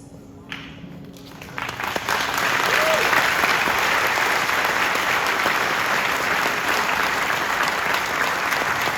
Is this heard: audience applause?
yes